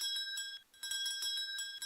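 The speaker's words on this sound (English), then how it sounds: "Can you hear the sound of the bell?" Small bell struck repeatedly underwater in a bucket of water, heard through the liquid as a steady series of bright, ringing chimes in quick rhythm with a brief gap midway, fairly close and alone.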